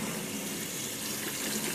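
Tap water rinses an aromatherapy diffuser, a steady close splashing hiss with no speech over it.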